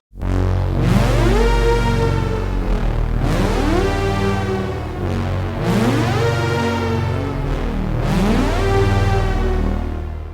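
A super saw synth patch plays a note sequence of dense, buzzy sustained chords, each change marked by a sweeping attack roughly every two and a half seconds, loud and unaccompanied.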